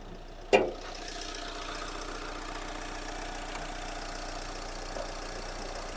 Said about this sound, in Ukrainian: послухаємо, як там себе веде цей легендарний К9К.